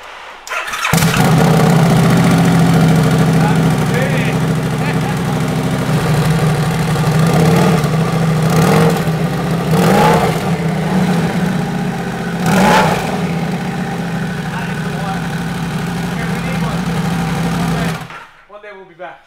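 A Mazda RX-7 rotary engine fitted with a big turbo cranks, catches and runs loud and close, with a steady idle broken by a few sharp revs before it cuts off abruptly. Voices talk faintly underneath.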